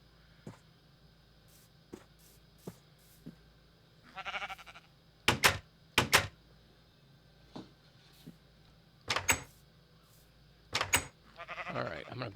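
Sheep bleat in a farm setting inside a video game, a few short loud calls in clusters between quiet stretches with light clicks and taps.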